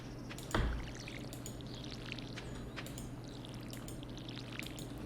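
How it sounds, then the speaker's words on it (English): A watering can is refilled in the Stardew Valley video game: one short, soft splash early on, then a steady bed of game background sound. "We'll refill our watering can."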